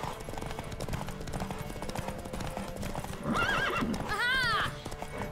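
A horse gallops in a race in the video game The Witcher 3, rapid clip-clop hoofbeats running throughout, followed by two loud neighs near the end, with a little faint talk underneath.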